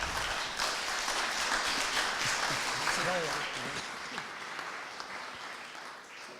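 An audience applauds at the 2013 Montgolfier award ceremony. The sustained crowd clapping fills the room at a moderate level, and a voice briefly speaks over it midway before the applause gradually thins toward the end.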